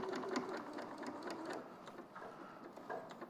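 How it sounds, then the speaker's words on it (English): A sewing machine running steadily while top stitching close to the edge of fabric, with a fast even mechanical chatter that is close and continuous, with no talk over it. "Top stitching is done close to the edge as possible"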